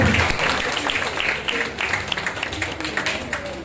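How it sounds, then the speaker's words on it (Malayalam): An audience at an insurance unit's fourth anniversary celebration bursts into applause, a dense burst of clapping that fades and then returns in scattered claps. "കൈയടി കൊടുക്കൂ"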